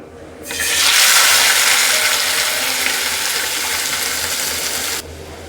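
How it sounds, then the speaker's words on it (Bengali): Harina shrimp dropped into well-heated oil in a wok, bursting into a loud, bright sizzle that holds steady for about four seconds, then cuts off abruptly to quiet. "এবার চিংড়িগুলো ভেজে নিব"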